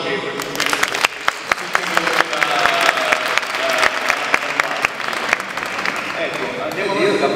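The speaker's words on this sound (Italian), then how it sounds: "E va bene, e un applauso a Mauro che" Loud, sustained clapping from a crowd, dense and steady with sharper individual claps popping out, lasting several seconds.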